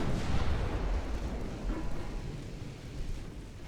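Battleship guns in Ultimate Admiral Dreadnoughts, a WW2 battleship match, fire a heavy booming salvo that rolls away into a long, dense rumble, loud and close, with no talking.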